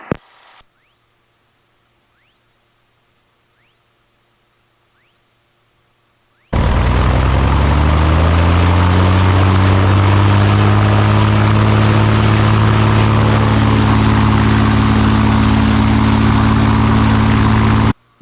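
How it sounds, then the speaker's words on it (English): After a quiet stretch with faint beeps, a Cessna Skyhawk's propeller engine roars up to full power for takeoff on a cold snowy day, a loud steady drone with rising harmonics that continues to the end. "Skyhawk 7042 Alpha is departing runway 10."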